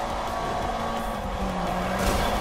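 A tuned Evo in Need for Speed (2015) roars steadily as it speeds up, a dense, loud engine drone with a faint rising tone and no voices over it.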